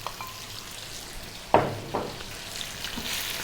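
Cooked spaghetti tossed in olive oil in a hot pan gives a soft, continuous sizzle, broken by two sharper scraping stirs partway through.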